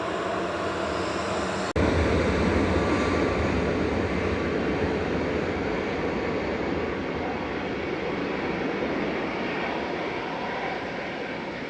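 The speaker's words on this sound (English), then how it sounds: "EasyJet to Lyon, A320-200" An EasyJet Airbus A320-200 airliner departs Manchester Airport, its steady broadband jet roar loud and sustained throughout, rising sharply after a brief opening moment and slowly easing as it climbs away.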